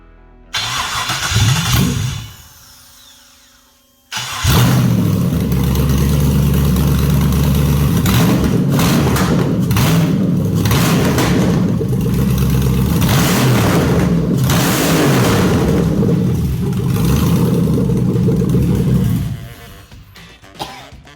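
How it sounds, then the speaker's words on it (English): A Chevrolet LS1 V8 engine, running on the ground with no exhaust, cranks and catches, then roars into a loud, sustained rev with throaty rumble before cutting off, close by. "Good running engine."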